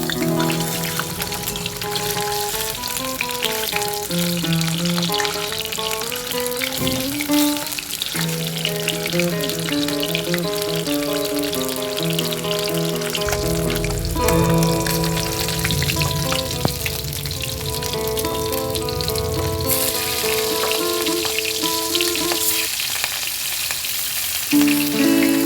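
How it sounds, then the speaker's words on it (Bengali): Fish frying in hot oil in a pan, with a steady, even sizzle running throughout under background music. "মাছটা ভেজে নিচ্ছি, এক পিঠ হয়ে গেছে"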